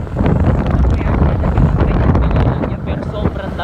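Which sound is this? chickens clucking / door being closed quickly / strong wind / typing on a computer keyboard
strong wind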